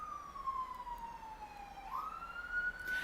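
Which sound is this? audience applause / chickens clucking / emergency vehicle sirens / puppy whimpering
emergency vehicle sirens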